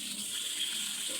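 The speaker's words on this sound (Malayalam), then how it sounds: "അങ്ങനെ നമ്മൾ തക്കാളി ഒക്കെ ഒരു 3 പ്രാവശ്യം കഴുകി" Tap water runs steadily into a sink while tomatoes are washed, a continuous close hiss of flowing water with no talk over it.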